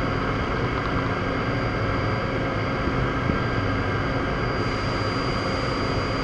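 Niigata SPN-50 horizontal machining center spindle running at 3,000 RPM, a loud, steady, dense mechanical roar with a constant high whine, unbroken throughout and close by.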